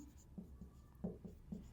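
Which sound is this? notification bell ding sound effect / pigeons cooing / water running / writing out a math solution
writing out a math solution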